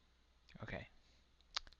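A computer mouse gives a few quick, sharp clicks near the end, close and quiet, after a short stretch of talking.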